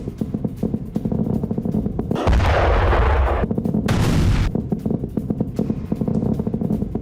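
Heavy booming explosions in Bahrain near a US base roar out over continuous loud crackling noise, with a sustained thunderous stretch in the middle.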